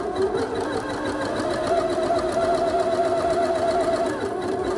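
Sewing machine stitching a summer dress around a shoulder seam, a steady continuous motor hum with a fast even needle rhythm, close and loud throughout.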